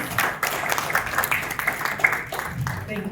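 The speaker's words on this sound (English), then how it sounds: "So please let us welcome Ben with a round of applause." Applause from the audience at a Nigerian Breweries pre-AGM media briefing, scattered claps over a busy room with voices mixed in throughout.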